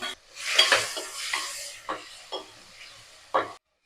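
Tomatoes tossed into a pan with onions and garlic sizzle briefly while a spoon scrapes and clatters against the metal in several short separate strokes, close and fairly quiet.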